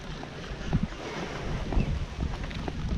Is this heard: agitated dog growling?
no